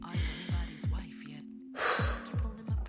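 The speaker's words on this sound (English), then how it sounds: "let me take a deep breath first" A single deep breath is drawn in and let out close to the microphone, heard over a steady, regularly thumping background beat.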